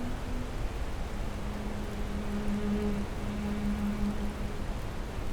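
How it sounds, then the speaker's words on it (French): Steady rainfall, a dense even hiss of drops with a faint low tonal hum beneath, continuous and moderately quiet with no voices. "Il pleut alors pendant des millions d'années."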